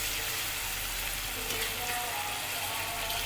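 Tomatoes sauté in a pan for Mysore pulao, producing an even, continuous close-up sizzle with no pauses.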